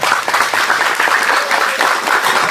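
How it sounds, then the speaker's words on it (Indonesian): Audience applause for Banser at an Indonesian religious talk, dense steady clapping from a crowd filling the whole stretch, loud and close with no pauses. "Gini tepuk tangan untuk Banser lah."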